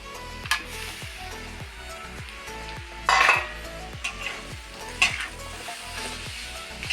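Cooked rice being stirred into fried eggs in a pan, with steady sizzling and repeated rhythmic scrapes and clinks of a spoon against the metal pan, close and fairly loud.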